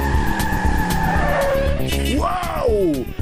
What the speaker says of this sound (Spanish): Así que se trata de una carrera de coches.